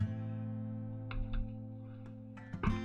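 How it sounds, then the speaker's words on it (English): Electronic fart tone sound effects play as short buzzy bursts over a sustained low synthetic drone, several blurts clustered near the end. "I'll show you the fart tones real quick."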